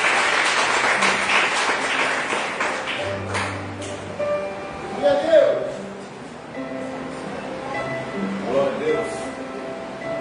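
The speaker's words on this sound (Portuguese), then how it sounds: "As palmas louvam ao Senhor Jesus." Congregation applauding during a Pentecostal church service, a broad wash of clapping with a voice and musical tones rising through it, moderately loud and steady over ten seconds.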